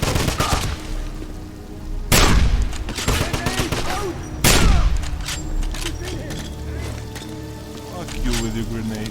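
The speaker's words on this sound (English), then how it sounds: "Hold the line! Suppressing fire!" Sustained gunfire from a World War II shooter game, with two heavy booming bursts standing out over continuous rattling shots, mechanical clatter and battle ambience, while voices shout throughout.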